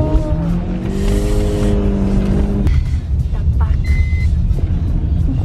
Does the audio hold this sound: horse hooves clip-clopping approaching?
no